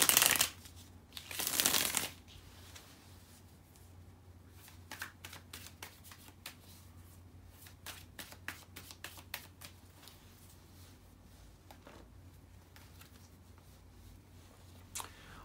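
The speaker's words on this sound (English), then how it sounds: "bear with me a second, guys, to shuffle the cards" Tarot cards are shuffled in two quick riffling bursts, followed by soft taps and light shuffling clicks as they are handled and laid down.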